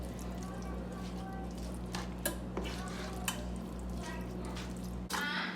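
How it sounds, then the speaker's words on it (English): Quiet, steady stirring of cheesy bacon green bean casserole ingredients seasoned with black pepper, with a few soft clinks of a spoon against the bowl, close to the ear over a low hum. "Go ahead and mix everything together."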